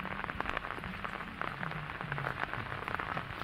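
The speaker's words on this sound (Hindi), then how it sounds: "आज भोर वर्षा होची एपर्यंत छाड़ी नहीं।" Rain falls steadily on a muddy village road during monsoon weather, a dense, even patter of drops close by with occasional sharper splashes and no voices.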